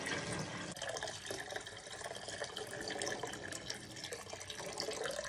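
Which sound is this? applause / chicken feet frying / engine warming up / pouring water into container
pouring water into container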